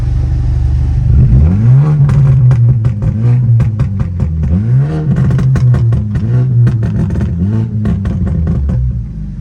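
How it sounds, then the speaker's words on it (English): A straight-piped car engine revs close by, rising in several throaty surges and dropping back to a rough idle between them, loud and raw with crackling exhaust. "Could give y'all a couple revs"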